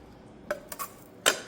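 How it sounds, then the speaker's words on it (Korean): Large potatoes slide over a mandoline slicer in a kitchen, giving a few brief, crisp scraping strokes up close, separated by short pauses. "이렇게 채칼로 썰어줍니다"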